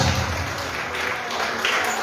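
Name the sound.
loud applause for the couple at an engagement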